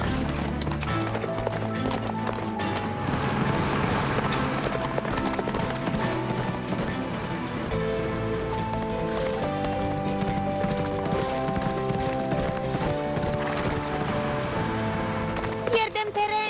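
Horse hooves clip-clop in a steady galloping rhythm under continuous music, in an animated farm story, with a voice briefly calling out.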